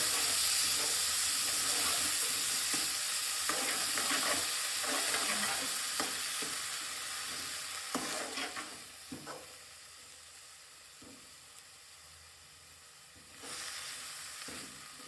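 Green pigeon peas and chopped green garlic stirred in a frying pan, a steady sizzle with scraping spoon strokes that settles quieter toward the end before a brief flare of frying.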